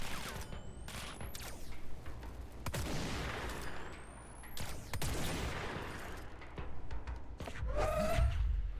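Gunfire in the video game Control comes in heavy bursts of rapid shots and loud booms with whooshing passes between them, swelling and fading over several seconds, then a final dense volley.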